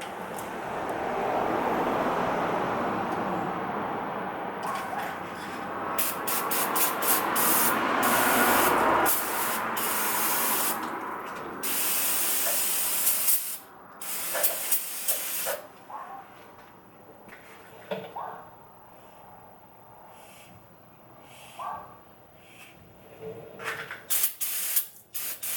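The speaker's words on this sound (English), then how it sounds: "Then you just take your brake cleaner." Brake cleaner hisses from an aerosol can onto the drum brakes of a Chevrolet C10, a long steady spray followed by shorter stop-start bursts, close and loud with no talking.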